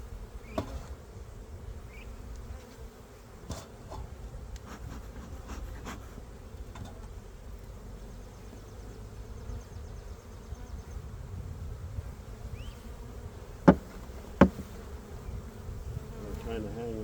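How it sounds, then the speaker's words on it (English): Bees buzz in the top of a hive box made from a nuc combined using newspaper, a steady low hum holding for the whole stretch, with faint clicks and two sharp knocks of hive parts near the end. "Definitely bees in the top still."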